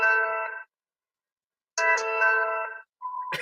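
A mobile phone ringtone plays two loud, close bursts of a bright, repeating melodic tone separated by a second of silence, then starts a third burst, with no talking over it.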